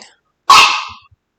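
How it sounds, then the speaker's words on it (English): A senile old dog barks once, sharp and close, after a faint preceding noise, with a short trailing breathy tail and no other sound around it. "My dog is senile and she just won't stop barking for no reason."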